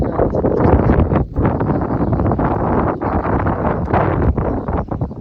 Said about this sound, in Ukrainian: Вибачаюсь зразу за вітер.